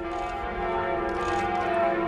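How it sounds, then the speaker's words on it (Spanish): Notre Dame church bells in Paris ring with sustained overlapping metallic tones, a steady resonant wash of bell harmonics at a moderate distance, with no talk. "El tañido de las campanas de Notre Dame era famoso a finales del siglo XVIII"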